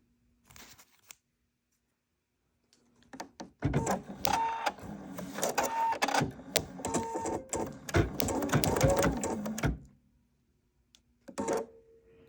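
Embroidery machine stitching on a towel, a loud busy mechanical chatter of rapid needle strokes and motor whine lasting several seconds, framed by brief quieter handling sounds.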